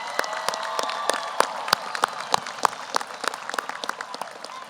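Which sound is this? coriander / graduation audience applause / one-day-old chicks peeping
graduation audience applause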